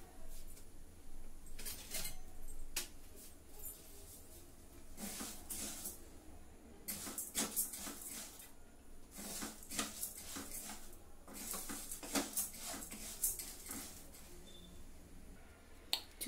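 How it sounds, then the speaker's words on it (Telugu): Grains dry-roasting in a pan for homemade baby cereal rattle and scrape faintly as they are stirred, with irregular bursts of clatter against quieter stretches. "ఇక్కడే ఉండి వేయించుకోవాలన్నమాట మాడనివ్వకుండా కొంచెం రోస్ట్ అయ్యేటట్టు వేయించుకోవాలి"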